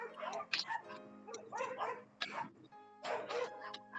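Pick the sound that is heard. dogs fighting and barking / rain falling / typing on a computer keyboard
dogs fighting and barking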